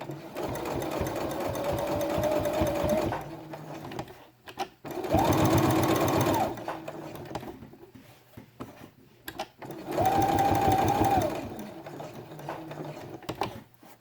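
Electric sewing machine stitching a felt hat onto a felt finger puppet head, a steady close whirring run in three bursts separated by short pauses, with no talk.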